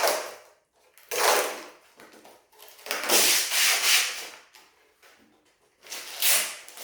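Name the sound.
protective sheet peeled off Starlink Mini dish cover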